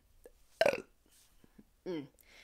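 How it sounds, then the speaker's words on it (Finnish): A loud, drawn-out burp rises abruptly and fades, followed later by a second shorter belch; faint breaths and small mouth noises sit between them in a quiet room. "Tää röyhtely oli ihan uskomatonta."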